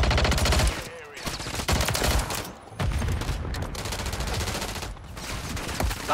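Dense, continuous rapid gunfire in an online shooter video game, loud, close and nearly unbroken, with brief dips between bursts.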